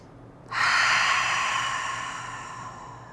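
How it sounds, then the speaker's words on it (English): A single long, deep cleansing breath taken during a guided relaxation, a loud close whoosh of air that starts suddenly and slowly fades over a few seconds, heard on its own. "Go ahead and give yourself a cleansing breath."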